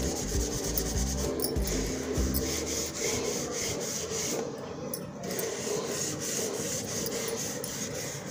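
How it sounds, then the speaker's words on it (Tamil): Eraser or cloth lightly rubbing pencil and crayon marks off a painted wall, a close, steady scratchy scrubbing with rapid back-and-forth strokes throughout. "நான் ரொம்ப அழுத்தம் கூட கொடுக்கல, லைட்டாக தான் ரப் பண்ணுறேன்."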